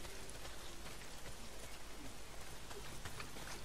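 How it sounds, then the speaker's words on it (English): Heavy rain pours down in the open-world survival game Days Gone, a dense, even patter of drops hissing steadily throughout at low, constant loudness with no voices. "Well, not if it's pissing down rain."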